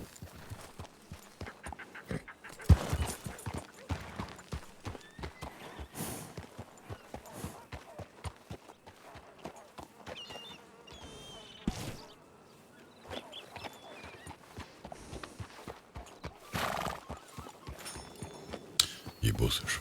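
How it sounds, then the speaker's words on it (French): Horse hooves clip-clop in a video game, an uneven run of quiet hoof strikes with occasional louder thuds, mixed under a person talking. "Il est beau ce cheval quand même."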